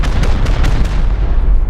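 Rocket explosions hitting a base in Rust: loud, rumbling blasts with a few sharp impacts spaced in quick succession, heavy low-end boom filling the short moment.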